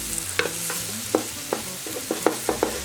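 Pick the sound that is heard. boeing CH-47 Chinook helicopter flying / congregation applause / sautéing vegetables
sautéing vegetables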